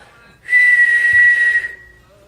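A person whistles one steady, clear note lasting just over a second, loud and close, with no talk around it.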